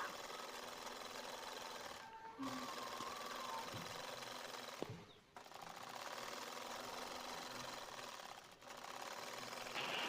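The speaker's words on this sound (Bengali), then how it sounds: "এখন তৃতীয় নম্বর লাইনটাকেও সেলাই দিয়ে নিচ্ছি একইভাবে আমি কিন্তু অপর মাথায়ও সেলাইটা দিয়ে নেব" A sewing machine stitches a cloth turban with a steady, close mechanical whir that runs almost the whole time, with two brief pauses.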